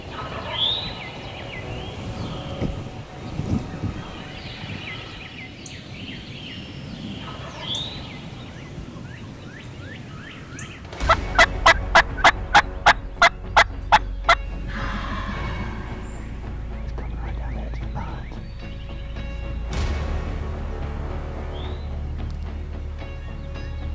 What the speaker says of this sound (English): the turkey we were hunting was out to the north of us, and I could hear him gobbling pretty good.